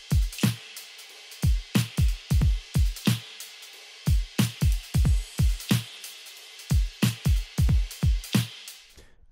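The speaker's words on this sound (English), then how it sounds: "layering snares with mouth sounds" Drum pattern built from snare samples, each hit layered with a different mouth sound, so it resembles a drummer striking one snare at different spots; about two dozen sharp, close hits in a steady groove with short gaps.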